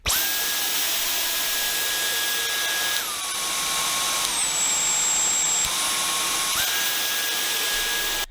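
Dyson V10 Absolute+ cordless vacuum cleaner running alone, a high steady motor whine that steps down in pitch and back up as the suction levels change, loud and continuous throughout.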